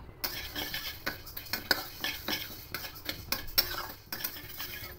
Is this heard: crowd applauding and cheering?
no